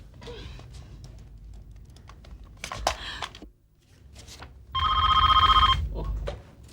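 A telephone bell rings once, loud and close, after some soft clicks and tapping in a quiet room.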